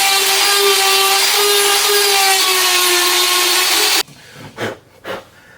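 Spiral roll of sandpaper sanding the steel crown of a handmade track fork, a steady loud abrasive whine with a faint tonal hum that cuts off near the end, followed by a few brief scraping strokes.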